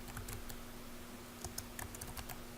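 Quiet keystrokes tapped on a computer keyboard while renaming a layer in design software, scattered short clicks in small bursts over a steady low hum.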